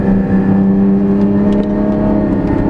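A 2016 Porsche 981 Cayman GT4 engine runs with its Fabspeed GT450 race headers and exhaust valves open, giving a loud, steady, close droning hum while the car corners, with no voices.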